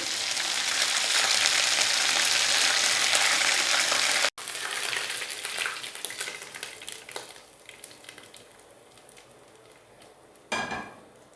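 Onion and ground green chillies sizzle hard in hot desi ghee for Lahori hareesa: a loud, dense frying hiss, a brief cut, then a softer, fading sizzle with stirring and a few utensil clinks, no voices.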